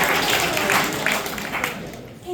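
Broad, steady applause from an audience at a public speech, honoring the police, filling the whole stretch at fairly even strength before fading slightly near the end.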